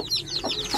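A desi hen, sitting as a brooder on eggs, clucks in a few short, soft repeated calls, close and fairly quiet, with no other sounds.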